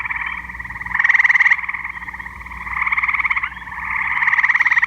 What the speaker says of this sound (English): Did you know that the tree frogs in Michigan sound more like a bird than a croaking frog?